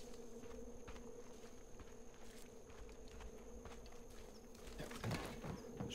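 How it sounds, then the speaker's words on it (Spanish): A swarm of bees buzzes faintly as a steady, low drone in the Far Cry 5 game world, with soft footsteps and light rustling toward the end. "Es como que hay un mogollón de abejas en alguna parte de por aquí."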